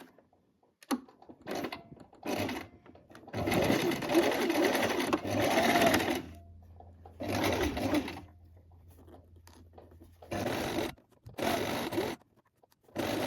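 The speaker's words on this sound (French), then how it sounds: "je vais faire plusieurs points avant-arrière pour renforcer évidemment la couture" A sewing machine backstitches the hem of a pair of shorts in several short bursts, whirring forward and back with pauses and fabric handling between runs, close and clear.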